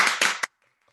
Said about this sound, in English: Give him a big hand first, please.